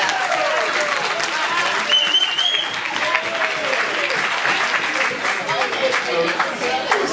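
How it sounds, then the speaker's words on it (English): A room applauds a youth hockey team at its end-of-season celebration, sustained crowd clapping with some cheering and voices mixed underneath throughout. "we'll give you guys a round of applause"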